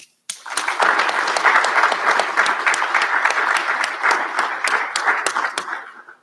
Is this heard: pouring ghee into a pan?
no